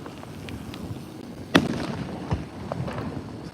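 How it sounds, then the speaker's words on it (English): Fireworks launched nearby go off with one sharp, loud pop followed by a softer thud and scattered faint crackles against a steady outdoor background at night. "They're actually launching the fireworks from right there"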